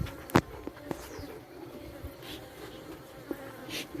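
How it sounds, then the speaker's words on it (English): Honey bees buzz around an open hive on its first day, a low steady drone throughout with a few brief louder passes close by. "You see them bees just come up on the top here,"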